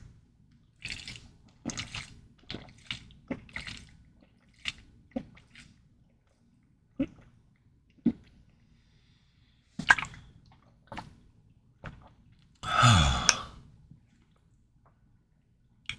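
Someone drinks water with close, intermittent gulps and wet swallowing sounds, several short ones followed by a longer, louder swallow near the end, with quiet gaps between.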